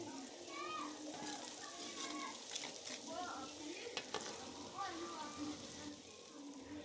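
Onions fry and brown in a pan, a soft continuous sizzle with stirring scrapes beneath someone talking throughout.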